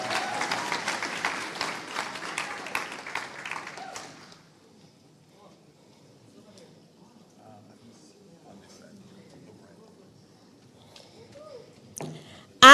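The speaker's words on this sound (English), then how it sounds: "A round of applause, please." Audience applause at an award presentation ceremony, a dense clatter of clapping for about four seconds that then stops, leaving a quiet hall with faint room noise and a brief louder burst at the end.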